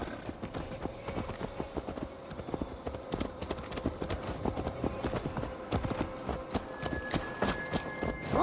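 Horse hooves clip-clop at a steady walking rhythm in the video game Assassin's Creed Valhalla, close and continuous over a low ambient bed, with no talking heard.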